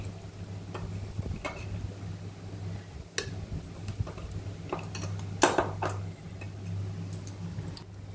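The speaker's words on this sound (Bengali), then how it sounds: "দেখো এই বড় চামচে 3 চামচ মতন চিনি আমি এর মধ্যে অ্যাড করে দিলাম" A big spoon adds sugar to a mango dessert mixture made with coconut, khoya kheer and chhana, giving a few faint, scattered clinks against the bowl over a steady low hum.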